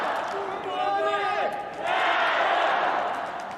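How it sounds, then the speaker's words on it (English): A crowd cheers and shouts for their team at a wheelchair curling match at the Beijing 2022 Paralympics, China playing Latvia; the cheering swells into a broad, steady roar midway after a voice-like tone rises above the arena din. "there you can hear the crowd in the background having a super time cheering their team"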